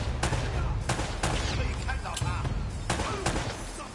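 Gunfire in the Uncharted video game, a rapid series of sharp shots coming in bursts at close range, with talking and game voices mixed in.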